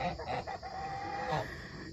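Geese honk and call repeatedly amid a noisy flock of fowl on a farm keeping silkie chickens, a busy, fairly near chorus.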